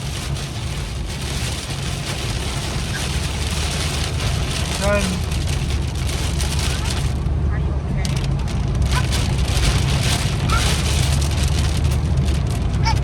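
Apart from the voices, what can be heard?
heavy rain with wind and hail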